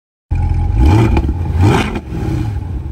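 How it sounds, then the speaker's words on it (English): A 2023 C8 Corvette with a FabSpeed aftermarket exhaust in sport mode revs hard close by, two rising engine sweeps cresting into a loud, raspy roar before settling into a steady idle rumble, with no talking. "We can put it in sport mode and give it some revs, Martin."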